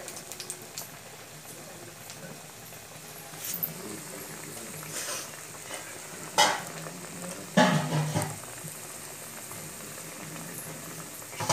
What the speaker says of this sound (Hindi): तेल मेरा गरम हो गया है। अब मैं इसमें बड़े डाल देती हूँ।